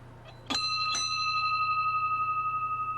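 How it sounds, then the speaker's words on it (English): An old club bell rung at dinner time: two sharp metallic strikes close together, followed by a long, clear ringing tone that sustains and slowly fades, loud and near against a low steady hum. "Here I put an old bell up I got out of one of the clubs."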